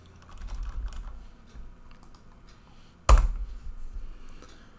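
Keystrokes on a computer keyboard during software setup in a network emulator, a quiet patter of typing followed by a single louder clack near the end, with no talking.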